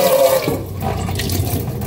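Tap water runs steadily into a pot while cooking preparation begins, a continuous close rushing pour lasting a couple of seconds with no talk.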